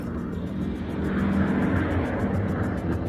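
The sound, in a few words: airplane engine roaring as it approaches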